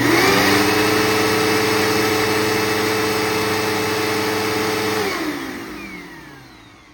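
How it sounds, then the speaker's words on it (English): A Bissell Cleanview bagless vacuum cleaner runs loud and close with a steady motor and brush-roll whine, then powers down over the last couple of seconds as the hum fades away. "now it's time to turn this one on"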